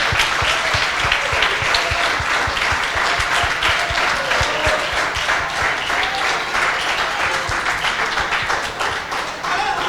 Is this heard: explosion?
no